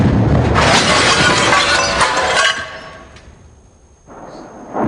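Glass shatters loudly as shelling strikes a hotel in wartime Sarajevo, a burst of breaking and crashing debris for about two and a half seconds, then a quieter tail before another crash starts.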